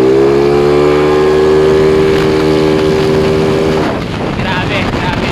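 A 199cc motorcycle engine with a 63mm chrome bore and Kyobo 7.5 cam is held loud and steady at high RPM for nearly four seconds, then cuts back abruptly to a rougher, lower idle.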